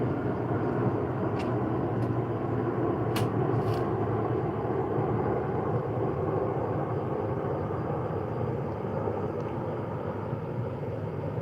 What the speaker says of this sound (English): Got a big plane going over